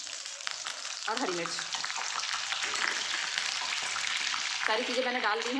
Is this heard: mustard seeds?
yes